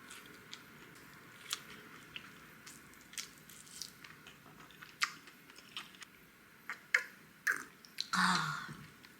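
Someone chewing Korean kkochijeon, pan-fried skewer pancake served with braised short ribs, close and quiet with soft bites, squishy chews and occasional crunches spread unevenly, louder toward the end.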